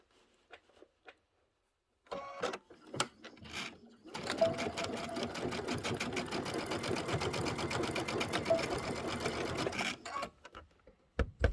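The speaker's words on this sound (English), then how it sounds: "So I'm going to top stitch on this side." A sewing machine top stitches a tote bag, running in a rapid, steady mechanical patter for about six seconds between short bursts and pauses, with someone talking softly around it.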